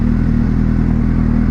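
A naked sports motorcycle's engine revving hard and steady for a wheelie, loud and close with a rapid clattering pulse throughout.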